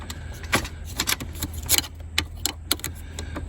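A key works a newly installed ignition lock cylinder in a 2002 Ford F150, with a quick series of close metallic clicks and key jingles, a few sharp ticks spaced irregularly over a quiet background.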